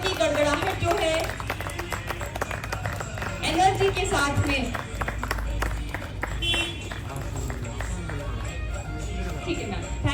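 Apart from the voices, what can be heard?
audience applause at meditation program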